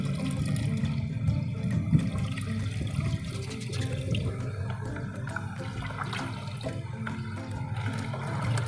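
A molasses and probiotic mixture pours into an aerated container while setting up biofloc water for a tilapia pond. It makes a steady, continuous watery rush and splash, fairly close, with no voice.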